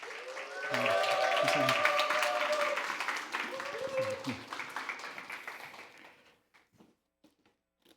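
A church congregation at a Wednesday prayer meeting applauds to welcome the pastor; the clapping swells, holds, then thins into scattered claps and fades to silence, with someone speaking partway through.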